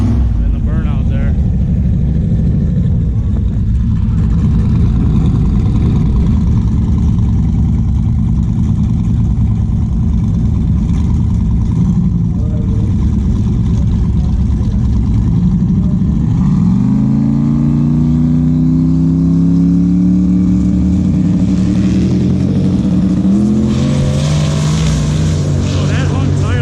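Loud drag car burnout at the strip, engine holding a heavy steady roar, then climbing through several rising rev sweeps as the rear tire hops, with talk under the noise.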